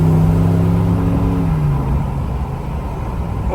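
A 2019-24 Ram 1500 pickup with a 5.7-liter V8 and an MBRP high-flow muffler gets throttle, its loud, deep exhaust rumble steady and close with no one talking.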